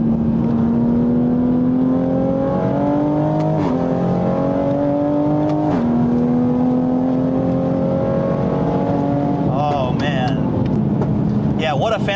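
A 2020 Toyota Supra tracked version accelerates hard through tight turns on a track, its engine droning loudly with rising and falling pitch as it shifts gears. A voice talks over it near the end.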